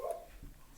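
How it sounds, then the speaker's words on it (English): A dog gives a short bark or yip, close and fairly loud, followed by a lower muffled sound, in a brief indoor moment. "Sorry for the doggy."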